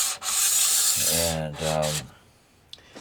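The shelf of a whiteboard calendar slides along its track in two scraping, rubbing strokes, close and fairly loud, then a short quiet stretch with a small knock.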